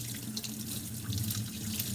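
Tap water runs steadily into a sink as a paint brush is rinsed out, a close, continuous splashing hiss with slight shifts as the bristles move under the stream.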